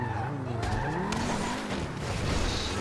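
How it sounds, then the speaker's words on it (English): A lowered Liberty Walk Lamborghini Huracan in GTA 5 scrapes along the road, a continuous grinding drag under a steady engine tone that rises and falls, with no talk. "it's actually scratching whenever I drive it"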